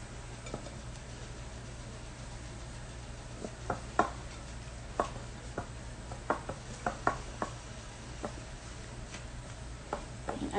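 Stuffed shells filling stirred in a bowl, with soft scattered clicks and taps of a utensil against the bowl at an irregular rhythm, fairly quiet over a steady low background hum.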